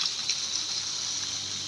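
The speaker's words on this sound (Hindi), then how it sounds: "ये आ रहा है पानी पूरा ऊपर से" Water from a mountain waterfall pours down from above, a steady broadband rush and hiss that stays even and continuous throughout, fairly close and with no talk over it.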